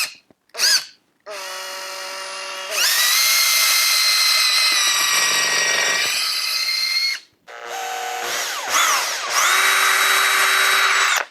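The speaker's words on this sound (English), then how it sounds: "when you're drilling, that you drill sort of straight into the tree" A power drill bores into the trunk of a common juniper bonsai, its motor whining loud and close in several long bursts with short pauses and pitch shifts as the bit bites the wood.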